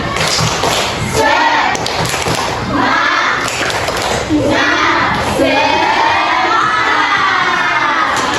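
A school class performs the rhythmic 'tepuk semangat' clapping chant, loud and close, with many children's voices shouting in unison over steady clapping and thumps throughout.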